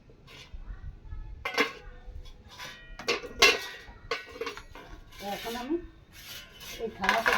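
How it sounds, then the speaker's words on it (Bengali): A knife cuts boiled potatoes into small pieces on a plate, giving a run of irregular scraping and clinking strokes that sound close and moderately loud. "ছোট ছোট করে এইভাবে আলুগুলো কেটে নিতে হবে"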